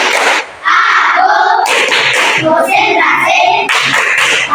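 Children in a classroom clap together in rhythm, a loud run of bright hand claps mixed with their chanting voices.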